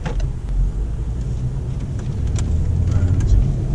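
A BMW 640i engine roars loudly from inside the cabin, a deep rumbling drone that swells and grows stronger as it accelerates.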